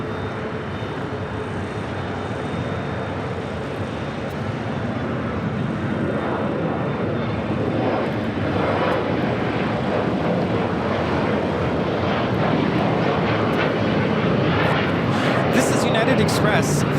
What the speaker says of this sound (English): Flight coming in from Dallas Love Field at a Southwest 737